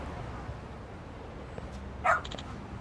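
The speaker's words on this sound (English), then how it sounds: "Why is there a dog in front of my house?" A dog in front of a house in the video game Lost Judgment gives a single short, sharp bark near the end, standing out over a faint, steady background hum.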